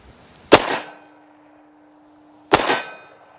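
A Ruger LCR revolver fires two .357 Magnum rounds, each a sharp, loud bang with a short ringing tail, about two seconds apart, with quiet in between.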